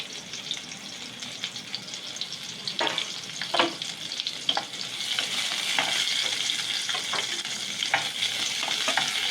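Onion, ginger, green chilli and garlic sautéing in a pan, a soft continuous sizzle that grows fuller, punctuated by light scraping strokes of a spoon, no voices.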